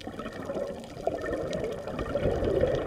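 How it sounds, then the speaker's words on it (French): Scuba divers breathe underwater on a dive at Kradan, Thailand, making a continuous low rush of bubbling and gurgling, with a louder burst of bubbles toward the end. "ce bruit de fond que vous entendez, c'est celui de nos respirations, de nos bulles."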